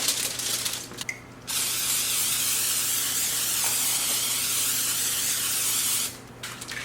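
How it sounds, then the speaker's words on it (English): A steady, loud hiss of olive oil cooking spray onto a pan runs for several seconds, with short pauses near the start and end. "we're just going to spray it with olive oil"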